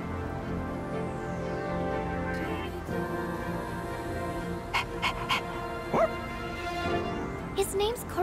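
Koromaru, the dog in Persona 3 Reload, pants and gives a few short yips and whimpers against a steady busy game background, with voices heard in the scene.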